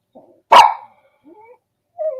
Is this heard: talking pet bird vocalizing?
no